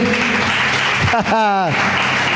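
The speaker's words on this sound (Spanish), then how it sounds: "Un aplauso para los actores allí" A church congregation applauds the actors after a performance, a continuous loud wash of clapping with a voice briefly calling out in the middle.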